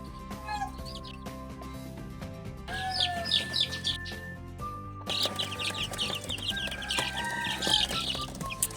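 Chicks in a crowded brooder chirp and cluck continuously in high, overlapping peeps, with bursts growing busier and louder toward the end, close by and with no talking.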